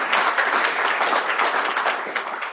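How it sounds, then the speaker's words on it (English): A room full of people at a biomedical engineering facilities launch applauding, dense steady clapping at moderate volume throughout, with no talking over it. "Please give a round of applause as he makes his way to the podium."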